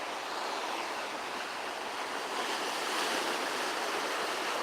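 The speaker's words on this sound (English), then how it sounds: "I'm at Ocean Shores." Ocean waves at Ocean Shores beach on a cool morning roll in as a continuous broad wash of surf, loud and steady throughout with some wind noise on the microphone and no voices.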